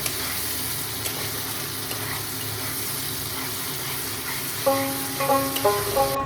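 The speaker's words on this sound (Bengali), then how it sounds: "এই মশলাটা অ্যাড করে দিয়ে খুব ভালোভাবে বাকি মশলার সাথে কষিয়ে নিতে হবে" Ground coriander-cumin spice paste, soaked beforehand, fries with other masala in a pan for a spicy egg curry, giving a steady, loud sizzle throughout with a few brief clinks near the end.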